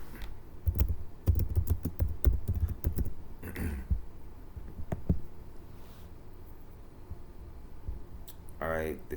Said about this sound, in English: Let's just type it up.